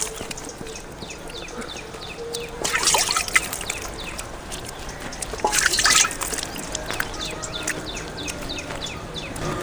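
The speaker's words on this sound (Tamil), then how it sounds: "நல்லா தண்ணி ஊற்றி கழுவும் போது" Water is poured and splashed while washing a cow during a sweet-making cook, with bursts of gushing and dripping around a background of trickles and scattered drips, and no talk.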